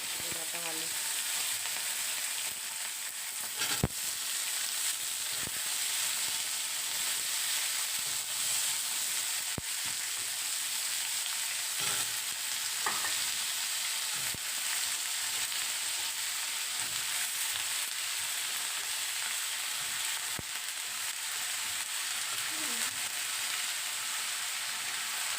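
Stem vegetables, potato and fish fry in a pan with black cumin and chilli, a dense, steady sizzle throughout, with occasional sharp clicks from stirring and no talking.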